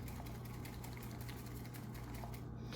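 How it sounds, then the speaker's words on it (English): A green drink being whisked until frothy, giving a steady, continuous buzzing whir close by that barely changes across the short stretch, with no talking. "Whisk it a little bit more until it's nice and frothy."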